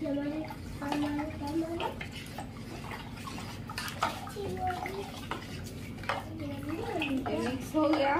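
Sattu powder is stirred into water for a Bihari drink, giving close sloshing, swirling liquid sounds with light clinks of a utensil against the vessel, while a person talks over the mixing.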